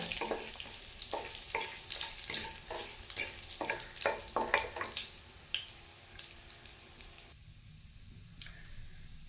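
Cumin seeds, bay leaf and dried red chillies crackling in hot oil in a home kitchen, with quick bursts of sputtering and stirring that taper off into a faint hiss, and no talking.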